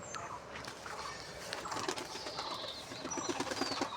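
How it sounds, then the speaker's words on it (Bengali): A Kalanka pigeon coos softly in a few repeated low calls, with faint chirps from other birds and a steady background hiss around it. "কালাঙ্কা পায়রাটা শখ করাবো"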